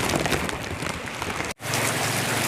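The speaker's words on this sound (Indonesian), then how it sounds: "kita bisa lihat sekarang ini hujan masih begitu deras mengguyur di tempat ini" Heavy rain pours down steadily during a flood in a Mentawai coastal village, a dense, loud hiss of falling water that cuts out for an instant midway before resuming.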